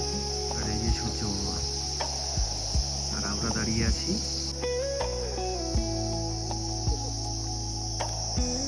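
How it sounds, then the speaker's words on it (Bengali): Constant high-pitched cricket chirring drones steadily in the background at seven in the morning while people talk nearby. "দেখো ঝিঝি পোকা ডাকছে"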